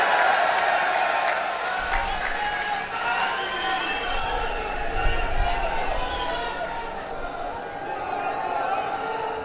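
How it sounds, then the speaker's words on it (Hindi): A large outdoor political rally crowd at a Ramlila ground applauds and cheers for Arvind Kejriwal, a loud, sustained wash of clapping and voices filling the whole stretch without a break. "जोरदार तालियां अरविंद जी के लिए"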